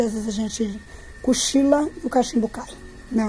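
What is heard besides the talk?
No everyday noises stand out.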